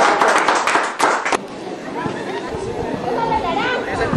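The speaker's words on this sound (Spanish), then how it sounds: "aplauso para el líder" Applause for a leader at a primary-level school award ceremony, a burst of clapping in the first second and a half that gives way to crowd chatter and murmuring voices.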